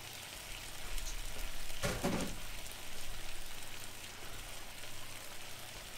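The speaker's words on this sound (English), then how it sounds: "so my chicken is starting to sizzle a little bit." Chicken sizzles steadily in a pan, a soft rain-like frying hiss with a brief louder burst partway through and no talk.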